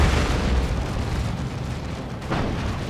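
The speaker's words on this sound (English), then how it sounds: "There's that Assault Cannon Barrage." Space Marine assault cannon barrage in Warhammer 40,000: Dawn of War 2 during a Space Marines versus Chaos Space Marines match: heavy, close explosive bursts and booms, loudest at the start, swelling again near the end, with no voices.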